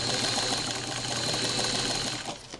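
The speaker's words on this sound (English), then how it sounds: "Now this machine is still set at 20 stitches per inch, so that's the other thing that's coming in here, is that it's really putting a lot of stitches down." Sewing machine running steadily at 20 stitches per inch while stitching a knitted doll sweater, a continuous dense whirring hum that holds for several seconds before slowing slightly at the end.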